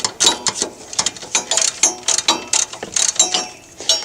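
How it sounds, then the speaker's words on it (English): A 3/8 drive ratchet loosens the alternator bolts on a Chevy Silverado, giving close, loud bursts of rapid clicking in an uneven rhythm with short pauses between strokes, and no talking. "I'm going to take my 3/8 drive ratchet and just loosen these"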